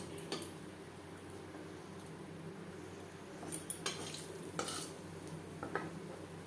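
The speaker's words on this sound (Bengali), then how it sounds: "তিন চামচ সর্ষের তেল গরম করে নিয়েছি দিয়ে দিলাম একটা শুকনো লঙ্কা" Dried red chili, torn into pieces, frying in three spoons of hot mustard oil for a bharta: a steady low sizzle with a few sharp metallic clinks and stirring taps of a spoon against the pan, no talking.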